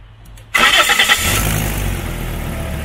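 Car engine with an exhaust manifold leak cranking and catching, a sharp burst to life after a short starter whir, then settling into a loud, steady rough idle nearby.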